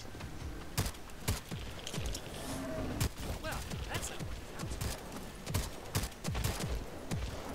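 Gunfire in the Second Extinction video game, fought against dinosaurs: a fairly steady run of sharp shots, some in quick pairs, mixed with footstep-like thumps and game effects, with a voice talking over much of it.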